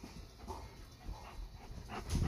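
A big dog panting close by in quick, breathy bursts with soft whimpers mixed in, continuous and fairly loud with no talking.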